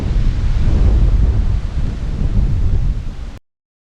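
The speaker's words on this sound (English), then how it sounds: "it is very windy on this hilltop" Strong wind batters a hilltop in a loud, continuous roaring rumble of buffeting against the microphone, steady and close, then cut off abruptly.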